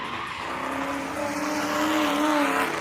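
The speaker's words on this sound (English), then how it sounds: "we got a big spin on entry." A drift car spins out on corner entry at a Mid Michigan Drift Club event, its tires squealing in a steady, loud, wavering screech under a roaring engine.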